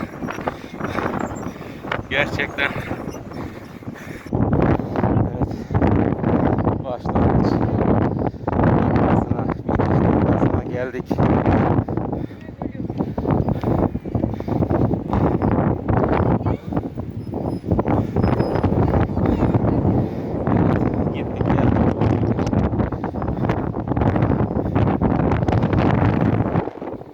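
Strong wind buffets the microphone in loud, continuous gusts on a suspension bridge in Andırın, Kahramanmaraş, with a person speaking briefly over the roar.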